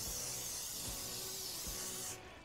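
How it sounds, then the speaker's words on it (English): Cooking spray hisses in a steady, loud continuous burst onto quail on a wire rack for hickory smoking, cutting off abruptly near the end. "I'm going to hit those with some cooking spray as well."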